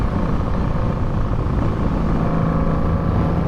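A Honda Magna motorcycle engine idling on its first run after a clutch rebuild, a loud, steady, close rumble holding without a break.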